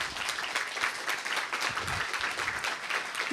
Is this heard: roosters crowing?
no